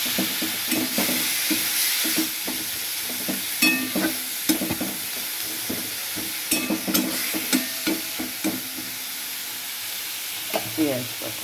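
Ginger paste fries in hot oil in a pan for pomfret curry, a steady close hiss with frequent stirring scrapes and crackles throughout.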